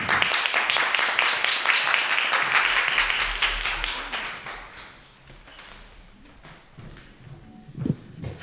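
Audience applause for a poet at a high school poetry slam, dense clapping that is loud at first, then thins out and fades into scattered claps and room noise.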